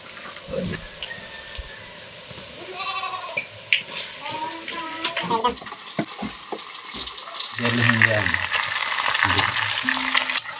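Chicken meat frying in a pan, a continuous sizzle with stirring clatter and spoon knocks, partly under people talking and other background sounds, growing louder in the second half.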